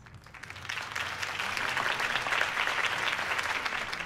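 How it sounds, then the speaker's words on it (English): Crowd applause following a campaign speech in the Batman Telltale Series video game, a dense sustained clapping that swells in after a brief quiet start and stays steady and fairly full throughout. "If only Mr. Wayne, my campaign's largest backer, could have heard that applause"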